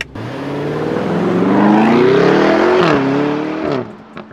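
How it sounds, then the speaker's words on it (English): A car engine revs hard from outside on a road used for time attacks, its rising tone climbing steadily before easing off, loud and sustained with no talk over it. "You guys should hear the sound of this car from the outside."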